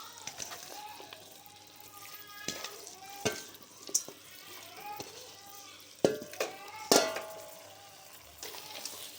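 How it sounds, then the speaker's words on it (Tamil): Chicken pieces fry in oil with masala while being stirred, giving a quiet background sizzle broken by irregular scrapes and sharp metallic clanks of a spoon against the pan. "நல்லா மசாலாலாம் வந்து இந்த சிக்கனில் கோட் ஆகிற மாதிரி நல்லா பரட்டிக்கணும்"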